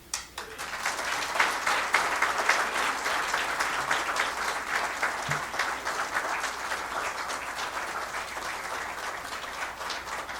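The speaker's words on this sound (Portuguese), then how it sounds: "todos os acadêmicos, nós o aplaudimos de pé." Standing ovation at an academy induction ceremony, a hall full of people clapping in a thick, sustained roar that rises quickly and holds steady for several seconds.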